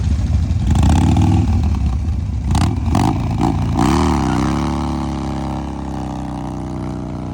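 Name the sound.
Harley Sportster motorcycle engine running on test ride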